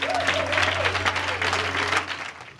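A church congregation claps hands at an evangelist's service, a full room of steady applause lasting a few seconds, with a low organ-like hum and a voice calling out faintly beneath it.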